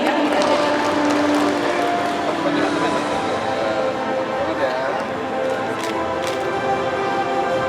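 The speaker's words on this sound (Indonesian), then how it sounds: "Berikan tepuk tangan yang meriah" An audience applauds during an award ceremony at the PubliAward 2019 event: a dense, continuous wash of clapping that is blended with a voice and some tonal sound, and holds steady throughout.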